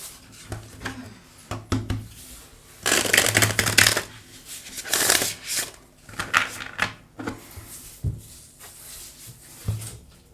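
Tarot cards are shuffled close up in uneven bursts of crisp riffling and soft slapping, with brief quiet gaps between handfuls.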